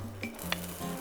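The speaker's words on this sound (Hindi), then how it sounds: "ये मेरा गार्लिक गया सारा पैन में" Garlic sizzling in a hot pan, a short close crackle with a brief stir or utensil clink, no voices.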